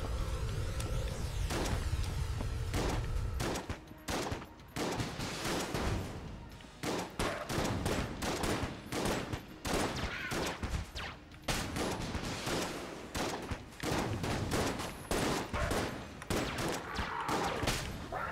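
Rapid gunfire at a boss in the video game Enter the Gungeon, continuous dense bursts of shots with brief pauses, loud and close, no talk.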